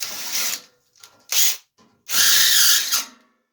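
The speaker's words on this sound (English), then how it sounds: "So I've got to go back to the toolkit, and I've got a tapered reamer." An old, worn tapered reamer turned by hand to enlarge a hole in a Spanish Mediterranean wall sconce, giving close, loud bursts of grinding and scraping in short strokes with pauses between them, and no talking.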